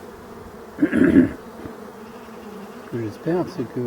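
A honeybee buzzes past at a hive entrance on a Breton apiary, a short loud buzz near one second, with someone speaking in French afterward.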